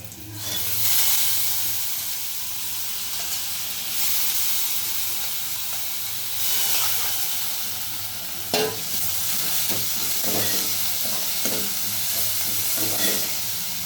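Washed moong dal sizzles in a hot pan with turmeric while a spoon stirs it, making a continuous frying hiss with swells and scraping stirs, close and fairly loud, alone without talking.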